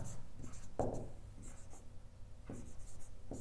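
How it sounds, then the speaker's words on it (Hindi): Chalk or marker writing on a board during a physics lecture on gravitation, with a few short scratchy strokes standing out over a low room hum and no talk. "यहां लिख रहा हूं मैं"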